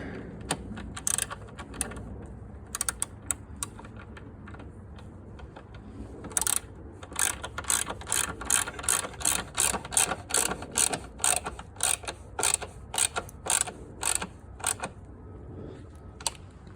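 A ratchet wrench tightening down the coolant expansion tank on a Mercedes C55 AMG outdoors in snow, with rapid clicking bursts close up, sparse at first and then dense repeated pawl clicks, no voices.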